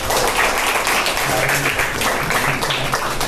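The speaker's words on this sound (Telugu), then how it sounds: "గట్టిగా చప్పట్లు కొడదామా?" Audience clapping at a church gospel gathering in Khammam, a dense, lively burst of applause close by and continuing steadily throughout.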